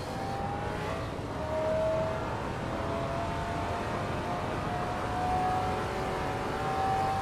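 A 2005 Bugatti Veyron race car drives in a racing video game, its engine giving a steady, loud continuous drone with faint tonal whines rising and falling over it, with no breaks throughout.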